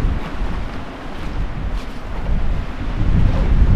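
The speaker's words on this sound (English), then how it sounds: "And there's the wind picking up." Wind gusting across open ground near Errigal mountain at a wild camping spot, a steady broadband rush buffeting the microphone and building louder toward the end.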